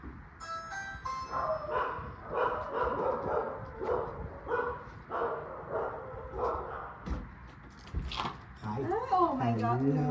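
A dog greets its owner on their return home, giving excited yips and whimpering barks up close, mixed with the owner's voice and overlapping talk throughout.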